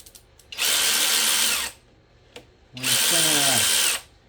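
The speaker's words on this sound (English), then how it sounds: "we'll go ahead and we'll use the power ratchet" A power ratchet loosens the cylinder head bolts on a Jeep during a head gasket change, giving two loud, close whirring bursts of about a second each, separated by a short pause.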